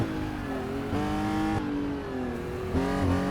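A Porsche 906 race car in a historic racing video game accelerates hard, its engine note climbing steadily and dropping with each upshift, three quick gear changes in a row, loud and close with no talking.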